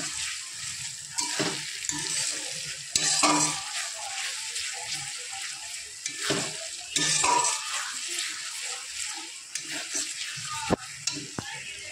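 Chicken is stir-fried in a pan for kosha, a bright continuous sizzle broken by repeated scraping and stirring strokes of a spoon against the pan, close up and without speech.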